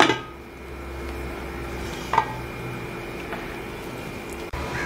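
A lid comes off a pot on a medium flame where a sponge cake bakes without an oven, with one bright metallic clink near the middle over a steady low hum and a soft knock at the end.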